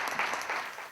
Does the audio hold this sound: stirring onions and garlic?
no